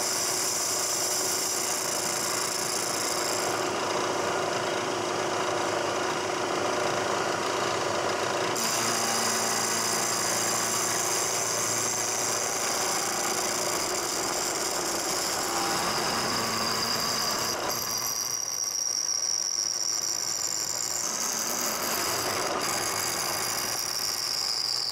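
Carbide end mill cutting a hard chilled casting for a Stuart Turner 10H engine, a long continuous machine whine and grinding drone that shifts in tone as the cut changes, with no talking.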